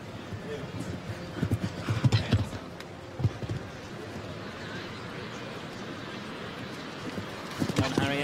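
An Irish sport horse, fourteen years old, canters through a show jumping round at a Nations Cup event, its hoofbeats thudding in uneven clusters under a commentator's voice, with a brief whinny-like tone among the arena sounds.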